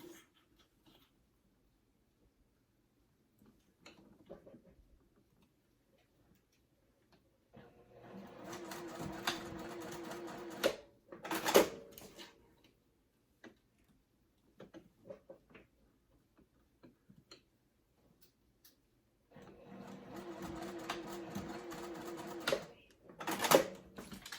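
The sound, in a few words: sewing machine stitching a crossbody bag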